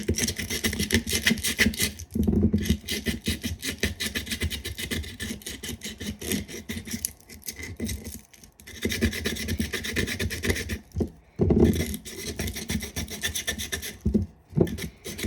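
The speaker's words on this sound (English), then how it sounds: "I'm just going to take it and just rub it across the bottom of my cup here, just to roughen it up." Sandpaper or a file rasping back and forth across the bottom of a tumbler cup to roughen it for resin, a continuous scratchy rubbing in steady strokes with brief pauses, close and loud with no talking.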